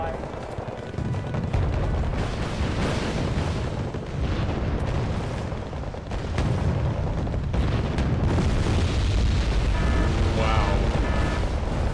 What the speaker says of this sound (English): these airstrikes are something else, George